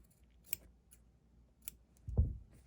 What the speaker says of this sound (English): I'm going to cut across the top point of the diamond.